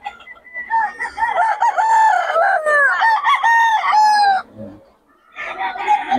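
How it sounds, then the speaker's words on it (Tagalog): Many chickens and roosters at a poultry sale in Bocaue, loud close crowing and clucking overlapping almost continuously, a brief lull, then more clucking. "maraming manok."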